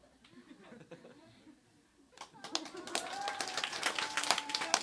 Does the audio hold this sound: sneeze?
no